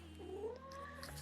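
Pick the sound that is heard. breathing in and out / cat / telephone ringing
cat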